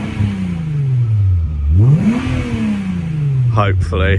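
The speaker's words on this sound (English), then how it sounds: "you can hear some of the VR growl" Volkswagen Corrado VR6 engine revving up and down in close, loud sweeps, with a deep growling note rising and falling, and a brief voice near the end.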